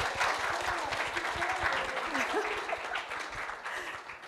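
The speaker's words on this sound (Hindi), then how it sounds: "जोरदार तालियां हो जाएं" Sustained applause from a crowd at a film press meet, steady clapping for several seconds greeting the music director, with voices mixed in underneath.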